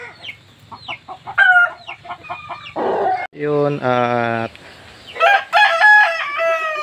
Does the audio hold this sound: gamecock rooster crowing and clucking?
yes